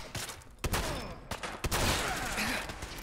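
A shotgun fires in Fallout 4, with three or four sharp, loud blasts spaced unevenly over a low rumbling backdrop.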